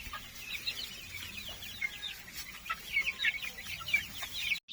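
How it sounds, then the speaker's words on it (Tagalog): Free-range chickens clucking and chattering in their new coop, a continuous busy flock of overlapping clucks and calls at moderate distance, with no talking over them. "Mas happy na yung ating mga alagang manok ngayon dahil nakakakilos na sila ng maluwag."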